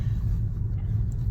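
Steady low rumble from inside a moving car, a continuous droning road and engine hum that holds evenly throughout with no voices over it.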